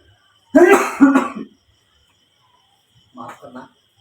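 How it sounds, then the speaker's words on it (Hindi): Two loud, close coughing bursts from a man, then a pause and two softer coughs, in a quiet indoor setting with no other sound. "बहुत ज़्यादा खांसी है भाई"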